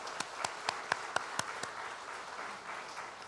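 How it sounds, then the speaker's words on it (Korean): Church congregation applauding in congratulation during a Sunday service, with a handful of sharp distinct claps standing out over a soft, thinner patter that fades toward the end, heard at moderate distance. "돌아서서 우리 성도님들 축하의 박수 부탁드리겠습니다"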